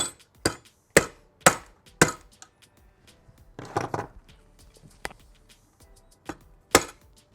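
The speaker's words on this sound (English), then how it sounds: "I'll give it a little tap with a hammer." Sharp hammer taps on a metal garbage disposal clamp, close and fairly crisp, spaced irregularly with a brief rattle in the middle and no talking.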